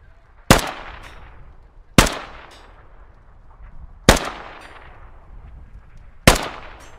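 Four single rifle shots ring out at a firing range in the military game Squad, each a sharp loud crack with a short decaying echo, spaced about two seconds apart with no talking.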